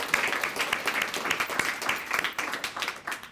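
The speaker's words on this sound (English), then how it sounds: "Let's give everyone a round of applause." School audience of students, families and staff giving steady, energetic applause throughout, a dense continuous patter of many hands at moderate distance.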